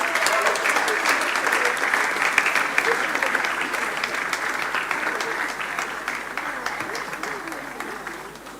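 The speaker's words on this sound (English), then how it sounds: "Round of applause for her." Audience applause at a school graduation and prize-giving ceremony, a sustained dense round of clapping that holds steady for several seconds, then slowly thins and fades.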